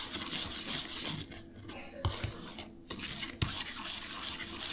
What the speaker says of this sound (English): And then we want to whisk this together as well.